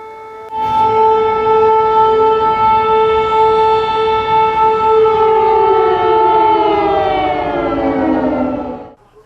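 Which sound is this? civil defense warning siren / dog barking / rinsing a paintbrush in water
civil defense warning siren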